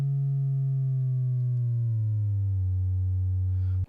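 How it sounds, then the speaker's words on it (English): Sub oscillator of an Arturia PolyBrute 12 analog synthesizer drones as a loud, steady low tone whose pitch glides gradually downward and then settles, ending with a short click. "So you can get really low with your sub frequency, or you can get really high with it."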